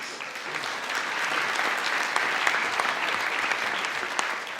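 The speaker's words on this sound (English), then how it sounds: "You can actually give yourselves a quick round of applause while John gets ready." A large audience applauds steadily, a thick wash of clapping that holds at full strength throughout.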